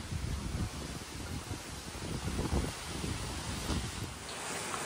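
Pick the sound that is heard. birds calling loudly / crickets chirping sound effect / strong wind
strong wind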